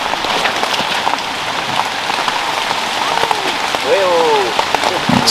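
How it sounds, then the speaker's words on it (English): Heavy rain pours steadily across an outdoor disc golf course during a championship final, a dense constant hiss close to the microphone with scattered louder drops, and a voice talks faintly beneath it. "It is hammering it down now, ladies and gentlemen. Absolutely hammering it down."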